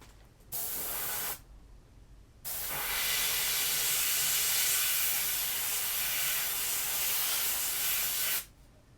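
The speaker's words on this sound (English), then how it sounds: "I would rather airbrush the thread than go to the time it takes to take it off." An airbrush sprays paint over a custom stencil in close, steady hissing bursts: one short spray, a pause, then a long continuous hiss that stops abruptly, with no talking.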